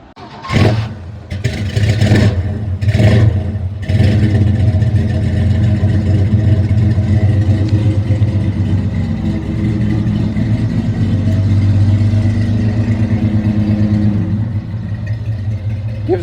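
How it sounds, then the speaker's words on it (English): A 1966 Chevrolet C10 pickup with true dual Flowmaster 40 exhausts cranks and fires up, then settles into a loud, deep, rumbling idle with a few throttle blips, close and continuous. "We're about to get a little startup action for you guys."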